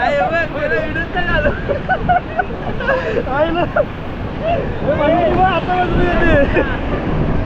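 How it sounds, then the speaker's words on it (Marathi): A large sea wave surges and crashes onto Mandavi beach near Ratnagiri in rain and wind, a loud rushing wash of surf running through the whole span, with excited voices and shouting over it. "मोठी लाट आली"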